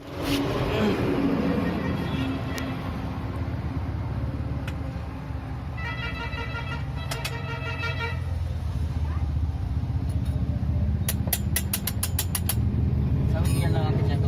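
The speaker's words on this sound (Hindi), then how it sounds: "सब गियर लगा के चेक करो।" A Tata Indica's gear lever is worked through its gears during a bush kit replacement, giving scattered mechanical clunks, clicks and creaks over a steady low engine-like rumble.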